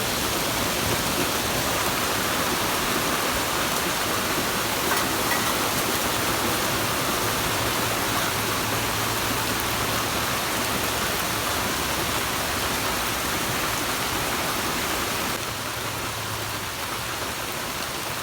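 Steady, dense rainfall hissing continuously for a long stretch, even and fairly loud with no voices.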